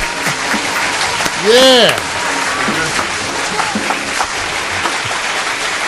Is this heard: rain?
no